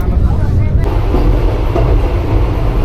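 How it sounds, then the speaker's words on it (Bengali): Vande Bharat Express running smoothly at around 124–125 km/h on the Howrah–New Jalpaiguri route, heard from inside the coach as a steady, loud low rumble with faint rail noise throughout. "ট্রেন এখন মোটামুটি একশো চব্বিশ থেকে একশো পঁচিশ kilometre hour kilometre per hour স্পিডে চলছে"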